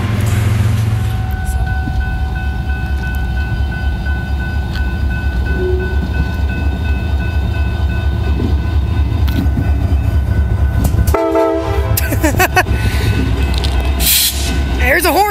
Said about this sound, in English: Train heading up the mountain sub towards Cumberland.